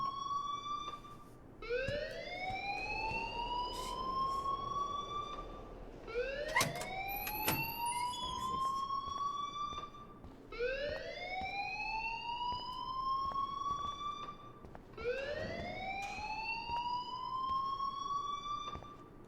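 Rising, wailing siren-like alarm in the video game Life is Strange, sweeping upward in four repeated cycles about every four seconds, loud and continuous with no talking.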